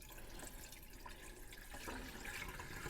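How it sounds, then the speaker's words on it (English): Raw rice being rinsed by hand in a bowl of water for Indian pilau, with a steady close-up swish and slosh of water as the grains are gently agitated, growing slightly louder toward the end. "we're just agitating the rice very, very gently"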